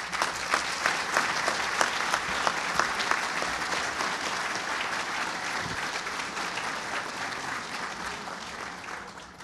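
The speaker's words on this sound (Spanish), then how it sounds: "a quien una vez más saludamos con fuerte aplauso" Sustained applause from an audience at a formal award ceremony in Peru, a dense crowd of claps with distinct individual hand strikes early on, gradually thinning and fading toward the end.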